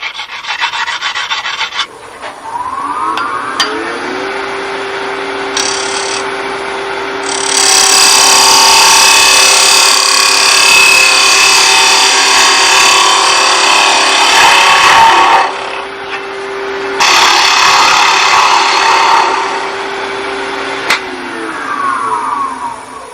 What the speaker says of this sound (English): I'm just going to touch up the edge here with a diamond hone